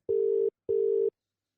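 Two short electronic ring tones over a telephone line, a steady pitched buzz repeated with a brief gap, then silence.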